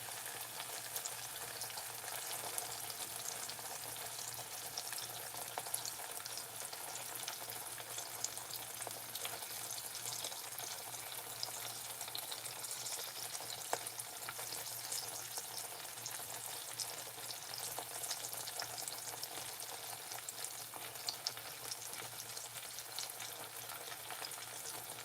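Kerrygold butter sizzling in a hot pan while beef is cooked, a steady bright crackle and hiss with scattered pops, close and continuous throughout, with no talking.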